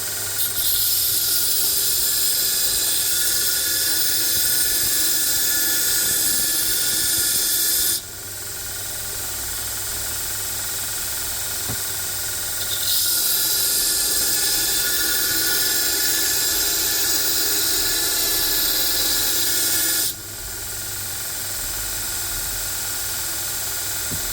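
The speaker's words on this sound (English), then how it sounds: "I'm actually going to try and just grind the entire profile so I can maintain that same edge geometry, or edge profile." A damaged Dalstrong knife is ground to restore its edge profile, with a loud, steady abrasive hiss that dips briefly twice as the blade is lifted and reapplied.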